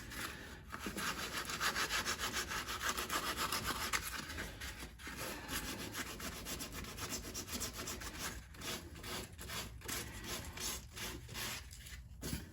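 Coarse 40-grit sandpaper worked by hand over body filler on a Jeep Patriot wheel arch, a steady rasping scrub with repeated strokes, fairly close and continuous with brief pauses.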